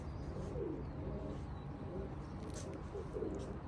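A newly caught pigeon coos softly and repeatedly, close by, over a constant background hum with faint outdoor noise.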